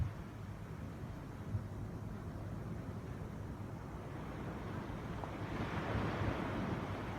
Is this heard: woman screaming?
no